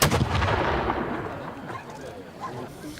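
A 75 mm field cannon fires at a commemorative reenactment with a rear-area camp, giving a loud booming blast that rolls into a long decaying rumble over a few seconds, with crowd noise faintly underneath.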